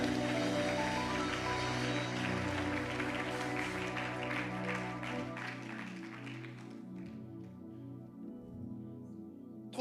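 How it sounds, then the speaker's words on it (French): Members of a church congregation clap together over sustained music during a service, with steady applause that fades partway through and leaves the music playing alone. "Acclame si tu le crois."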